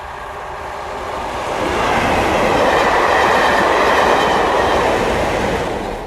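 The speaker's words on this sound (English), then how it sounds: "This train is top and tailed by two 1960s English Electric built diesel locomotives known as Class" A train top-and-tailed by two 1960s English Electric Class 37 diesel locomotives, each with a V12 turbocharged engine, swells into a loud, close pass with heavy rumble and clattering wheels.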